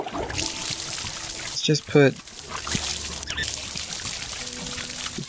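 Water trickles and pours onto soil in the VR garden game Garden of the Sea, a soft steady stream running under a brief spoken phrase.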